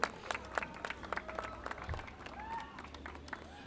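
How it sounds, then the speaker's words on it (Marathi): Scattered applause rises from a crowd at a cricket tournament prize distribution as the player of the match receives a trophy, uneven claps at moderate distance with a little background chatter. "जोरदार टाळ्या होऊन जाऊ द्या याच्यासाठी"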